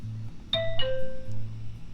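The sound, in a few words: doorbell ringing in a video game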